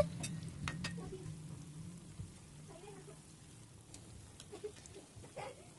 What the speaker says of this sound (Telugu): వీటిని అన్నీ ఈవెన్గా కలర్ వచ్చే వరకు ఫ్రై చేసుకోవాలండి, కలుపుకుంటూ అటు ఇటు